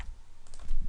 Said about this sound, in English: So now what we can do is we can go ahead and start to type